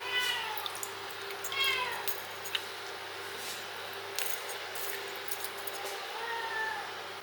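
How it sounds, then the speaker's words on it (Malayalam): A cat meows several times, up close, while waiting to be fed sardines in a home kitchen, its short calls scattered over faint background sounds. "അപ്പോൾ നമ്മളെ പൂച്ച ഇവിടെ റെഡി ആയിട്ടുണ്ട് മീൻ കഴിക്കാൻ"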